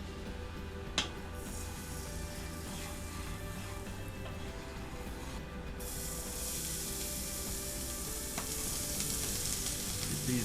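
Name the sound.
onions frying on a griddle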